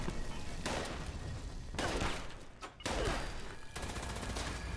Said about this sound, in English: This missile launcher, on the other hand, is slightly ridiculous.